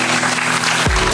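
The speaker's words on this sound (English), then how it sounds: "can we please give a warm round of applause for Nat?" Audience applause for a panel moderator at a discussion event on consumer blame and ecosystem transformation, a dense steady wash of clapping through the whole moment, ending in a low rumble.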